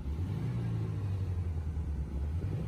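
A Toyota Corona TT with a 2000 cc 18R engine idles steadily close by, a low, even rumble with no talk over it.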